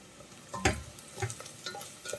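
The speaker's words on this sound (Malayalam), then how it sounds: "കുറച്ച് ഉപ്പും കൂടി ഇട്ട് ഈ സവാള നമുക്കൊന്ന് വഴറ്റിയെടുക്കാം." Onions sautéing with salt and turmeric in a pan for soya chunks biryani, a soft sizzle with a few sharp stirring scrapes, including one loud clack near the start, close and alone.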